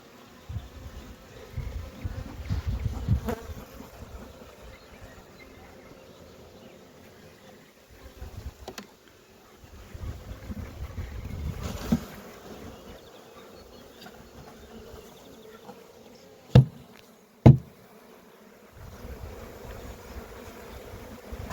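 A swarm of honeybees hums in a steady low drone that swells and fades in waves, with a couple of sharp knocks near the end and no speech.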